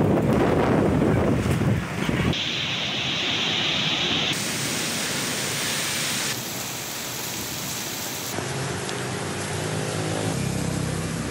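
Strong storm winds with rain buffet the microphone in Pakistan's Punjab, around Mandi Bahauddin and Hasan Abdal, as a dense, roaring rush that shifts abruptly between several cut-together scenes with no talking.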